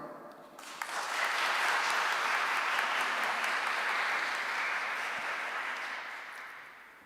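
Steady congregation applause fills a church during a Sunday Eucharistic service, a dense wash of clapping that swells quickly, holds for several seconds, then slowly tapers off with no voices over it.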